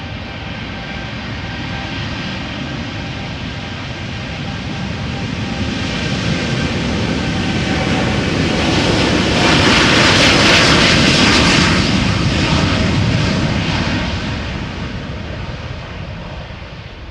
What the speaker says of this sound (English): next Dreamliner 7879 to Bogota